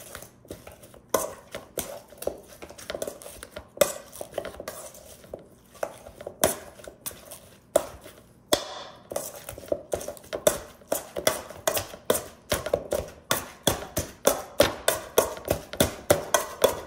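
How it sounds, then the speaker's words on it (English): Food being mashed with a masher in a bowl, a long run of sharp repeated knocks and clacks against the container, irregular at first and then settling into a fast, steady rhythm. "Mash this down."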